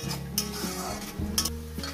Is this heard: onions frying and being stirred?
yes